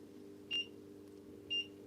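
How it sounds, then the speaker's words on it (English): Two short electronic beeps about a second apart from a reptile thermostat, set off by a reptile resting on its probe, heard alone over a steady low hum. "that beeping is because she's on the bloody thermostat probe, and it goes mental"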